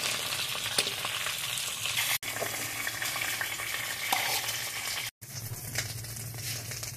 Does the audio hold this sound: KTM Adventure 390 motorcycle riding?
no